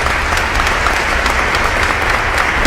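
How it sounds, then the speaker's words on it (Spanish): A church congregation breaks into loud, steady applause, a dense wash of many hands clapping together throughout. "Dale un aplauso al Señor, amén, porque usted se va con Cristo"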